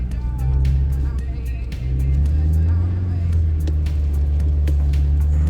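Off-road vehicle engine strains and revs steadily while towing a watermelon trailer through a muddy, puddled field track, a continuous low loud drone throughout.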